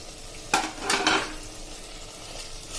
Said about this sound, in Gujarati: હવે આ સ્ટેજે આપણે એમાં જે ગુવાર સમાર્યો છે ને એ એડ કરી દેશું.